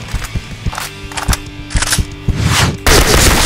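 Fast, punchy AN94 rifle shots in a video game, a quick sequence of sharp cracks in short bursts, loud and close, ending in a heavier blast.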